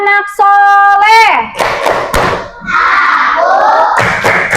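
A classroom of pupils doing the Tepuk anak soleh clapping game, chanting voices mixed with loud rhythmic claps and thumps in quick patterned bursts.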